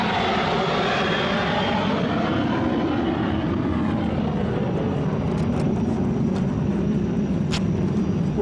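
A propeller airplane flies near an airport, its steady broadband engine drone loud and continuous throughout with no speech.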